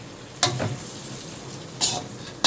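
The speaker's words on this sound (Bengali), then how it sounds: "কাঁচা লঙ্কাগুলো দিয়ে ভালো করে নাড়িয়ে নেওয়া হচ্ছে" Green chilies stirred in a pan, a soft low sizzle broken by a few sharp scrapes and knocks of a spoon against the pan.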